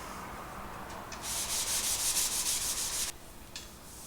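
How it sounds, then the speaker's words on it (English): Ultra fine gray Scotch-Brite pad rubbed over wooden stool legs, a soft, close scrubbing swish that swells into a brisk rhythmic burst for a couple of seconds, then fades back to faint strokes. "I'm just going to give them a quick once over with Scotch-Brite gray, silver, whatever the heck they want to call this, ultra fine"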